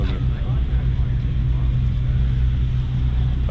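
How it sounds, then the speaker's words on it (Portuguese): Exotic cars, including Porsche 911s, roll into an outdoor car meet in the United States, their engines making a deep, steady rumble close by under the murmur of voices. "Bastante carro chegando ainda."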